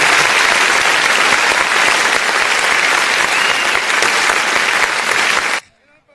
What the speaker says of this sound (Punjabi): ਤਾੜੀ ਮਾਰੋ ਯਾਰ, ਤਾੜੀ ਮਾਰ ਦਿਓ ਹੁਣ